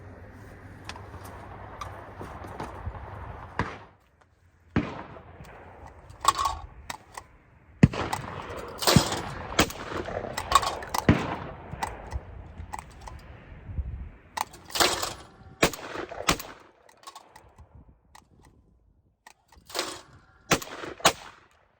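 A Mossberg shotgun fires lighter and heavier loads outdoors: a few sharp, loud reports spaced seconds apart, mixed with many smaller clicks and handling clatter.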